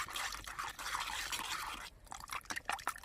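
Water is poured into a small bowl of homemade gravy spice powder, giving a faint, close trickle with irregular drips and splashes that thin out toward the end.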